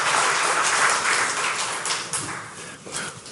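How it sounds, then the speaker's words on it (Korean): Dense crowd applause fills a church congregation's 15th anniversary and pastor installation thanksgiving service, a steady wash of many clapping hands that gradually thins and fades toward the end. "다시 한번 큰 격려의 박수 부탁드립니다."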